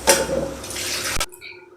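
Water poured from a vessel into a pot for herbal rasam, a broad close splashing gush that stops abruptly near the end, leaving a faint ringing tail.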